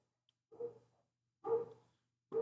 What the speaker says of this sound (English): Got a lot of loud dogs over there right now.